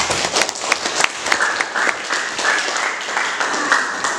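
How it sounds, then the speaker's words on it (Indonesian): A classroom of students applauds together in a steady, dense burst of clapping that continues evenly throughout, fairly loud and close, with no talking over it. "Iya, tepuk tangan dulu semuanya."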